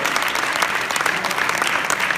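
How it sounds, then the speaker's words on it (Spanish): A church congregation at a Bible study gives a round of applause for the Lord, steady dense clapping up close with scattered sharper claps standing out. "Den un aplauso al Señor"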